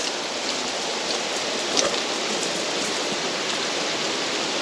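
Steady broadband rush of a river flowing near Baker's Brook Falls in Newfoundland, continuous and fairly close with no pauses or voices, just an even wash of moving water.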